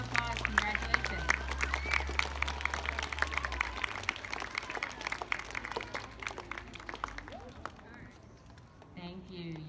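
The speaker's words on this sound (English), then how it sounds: "let's please give our personal success recipients a round of applause." Children and adults at an elementary school rewards assembly clap in a quick burst of applause in a large room, fading after a few seconds as a voice speaks briefly near the end.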